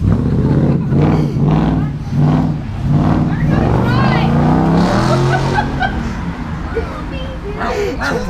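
A Ford Mustang engine revs in repeated surges, rising and falling under loud overlapping chatter and shouting from people nearby.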